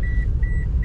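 A car's seatbelt warning chimes for the unbuckled passenger seat with steady high beeps, three short pulses in under a second, close and clear over low engine and road rumble, no talking.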